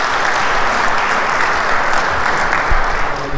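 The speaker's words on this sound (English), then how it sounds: "A big round of applause for everyone." A crowd at a dealer meet at Aamby Valley City applauds loudly and continuously, with dense clapping filling the whole stretch without pause.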